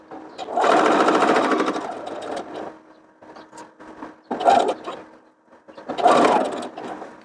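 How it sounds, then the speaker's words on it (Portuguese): A sewing machine stitching around the neckline of a lined child's dress, running in several bursts, one long and others shorter, with brief stops between, loud and close. "Agora baixo o calcador e eu venho contornando o decote"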